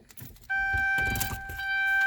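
A parked car in neutral with the e-brake on gives off a steady electronic chime tone along with soft clicks and mechanical rustling, fairly quiet and close.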